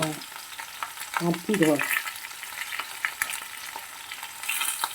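Baby potatoes frying with garlic in a pan, a steady soft sizzle with stirring clatters, a brief voice speaking near the start.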